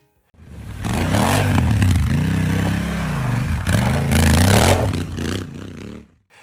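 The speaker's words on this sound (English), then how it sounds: "Riding this bike feels like a strapped jet engine." A Honda motorcycle engine revs close and loud while riding, rising through two strong acceleration pulls with a gear change between, then cutting off abruptly.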